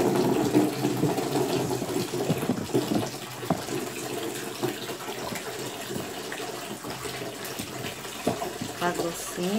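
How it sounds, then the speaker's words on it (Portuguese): Water pours steadily into a large batch of homemade glycerin liquid soap, a continuous splashing rush that gradually eases, with speech mixed in. "Vou botar um pouquinho mais de água."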